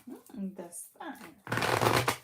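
A voice talks briefly, then a deck of tarot cards is shuffled close up in a short, crisp riffling burst.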